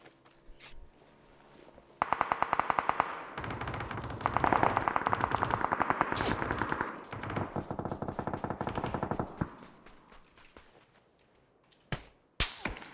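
Automatic gunfire from a distant shooter in the battle-royale game PUBG: rapid bursts of shots rattle steadily for several seconds, trail into scattered single shots, and end with a couple of sharp, isolated cracks.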